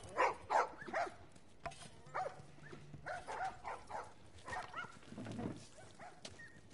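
Several dogs in the video game The Last of Us bark in short bursts among game ambience, with some whimpering and yips at varying distances and a low rumbling noise beneath.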